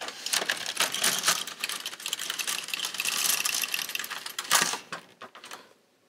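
An LK150 knitting machine carriage is pushed across a single row, giving a close, dense rattling and clacking slide that ends with a few sharp clicks before stopping.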